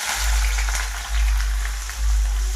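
Finely chopped onion frying in hot oil, a steady loud sizzle with a crackling hiss close up, continuing without a break and with no talking.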